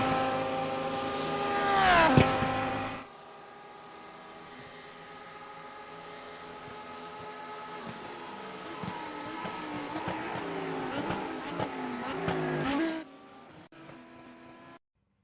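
Lamborghini Super Trofeo race cars at Autodromo Jose Carlos Pace: a loud engine roars past early, then a quieter stretch of engine drone builds again to a second loud pass before it cuts off, with no talk.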